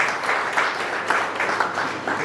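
Applause at an engagement ceremony at Kabir Hall in Suva: a steady wash of many hands clapping through the room, continuous and moderately loud, with no voices over it.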